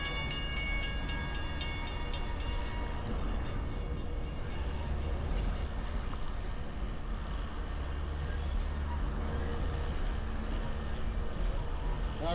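A historic train on the Virginia City railroad rolls along its rails with a continuous clattering rumble, steady and fairly close.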